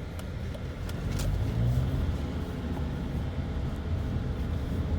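Car engine held in first gear while taking a very sharp corner on a driving course, a steady low droning rumble inside the cabin with faint clicks and taps over it.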